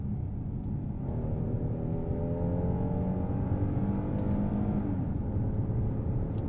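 A Kia Telluride engine accelerating through its gears, heard as a loud, steady rumbling drone with rising pitch, continuous and without speech.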